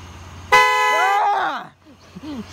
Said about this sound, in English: it is 2 in the morning and you are honking